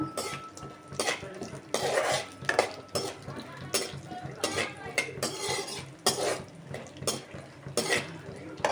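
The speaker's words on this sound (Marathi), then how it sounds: "त्याच्यानंतर टाकत आहे काजू. आपल्याला यांना व्यवस्थित परतून घ्यायचं आहे." Cashews being stirred and roasted in a pan for rava sheera: a metal spoon repeatedly scrapes and clatters against the pan in uneven strokes, close up, with a faint sizzle beneath.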